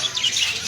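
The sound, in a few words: sparrows chirping in a zoo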